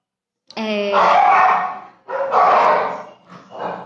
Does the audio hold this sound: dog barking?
yes